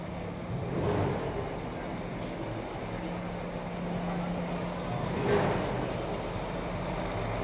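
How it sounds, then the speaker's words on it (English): City buses and traffic on 34th Street by Macy's in New York at Christmastime, a loud, steady roar of engines that swells and fades close by, with faint voices in the crowd. "It's very loud, the buses are very loud."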